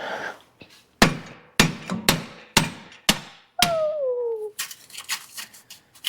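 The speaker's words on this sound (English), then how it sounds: "My band clamp is stuck, so I'm gonna give it a good hammer tap." A hammer strikes a stuck metal exhaust band clamp on an LMM Duramax in a series of sharp, ringing taps, close and loud, with a brief squealing scrape partway through and rapid lighter taps after.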